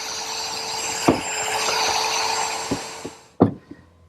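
A router cuts shelf-pin holes in a wooden case side using a hole-spacing jig, a steady high motor whine broken by several sharp plunge cuts before it winds down and stops.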